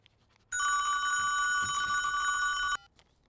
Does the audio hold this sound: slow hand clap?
no